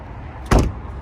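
A car door on a 1986 Chevrolet Caprice Classic shuts with a single short, solid thud, close and alone against quiet background.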